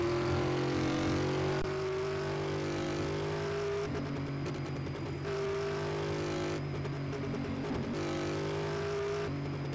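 Virtual car engine in Car Mechanic Simulator 2018 revving hard near 7,000 RPM, a steady loud droning roar with shifting pitch and periodic gear-like changes in tone, no talk.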